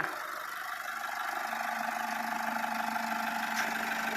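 An Isuzu D-Max 1.9 diesel pickup engine idles steadily nearby, a continuous rumbling drone with a faint rattly hum and no voices.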